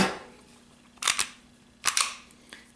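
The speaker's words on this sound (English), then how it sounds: "if you're going to clean it, you want to take out your magazine" Magazine pulled from a Springfield XD-9 MOD 2 4-inch pistol: two quick, sharp metallic clicks close together near the mic, another double click a moment later and a faint tick at the end, with no talk.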